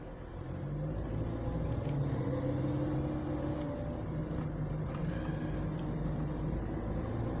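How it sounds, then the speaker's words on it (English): A continuous low rumble of road traffic and engine noise is heard from inside a moving car, steady and fairly loud throughout, with no talking. "Oh, God, this fucking traffic."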